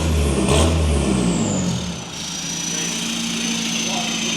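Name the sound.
Mk3 VW Scirocco TDI diesel straight pipe exhaust revving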